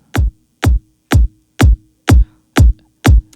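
Tech house kick drum processed with Ableton's Drum Buss, seven evenly spaced punchy thumps about half a second apart, loud and dry with nothing else playing.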